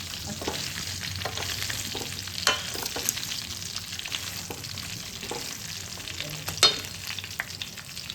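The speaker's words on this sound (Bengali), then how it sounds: "কতক্ষণ নাড়তে হবে? আমগুলো একটু ভাজা ভাজা হয়ে যাবে।" Mango pieces for a sweet Bengali jaggery mango pickle fry over a medium flame in a pan, a soft continuous sizzle broken by scraping strokes from a stirring spoon and an occasional clink.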